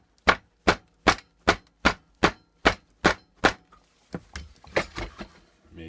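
A metal punch taps on a part of a 1987 Briggs engine during a teardown: eight evenly spaced, sharp knocks close by, followed by a looser cluster of softer, irregular hits.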